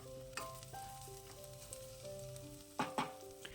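Mint leaves sautéing in oil for mushroom rice give off a soft, steady sizzle, faint beneath gentle background music, with a couple of brief louder stirring clatters near the end.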